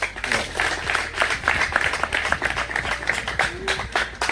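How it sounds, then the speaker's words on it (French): A crowd applauds at a French-language donation ceremony, steady dense clapping that holds at an even level throughout, fairly close and with no voice over it. "Acclamez."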